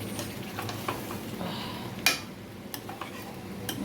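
Chicken being mixed with masala and a little water in a pan, soft scraping stirs and light sizzling with a few sharp utensil taps against the pan, close and fairly quiet.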